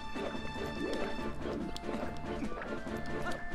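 Galloping horse hooves in The Legend of Zelda: Twilight Princess HD, a rhythmic clip-clop running under continuous game music and ambience, with no speech.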